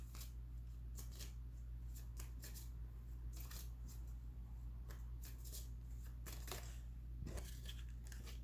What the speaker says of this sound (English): So what I'm doing is just shuffling each little pile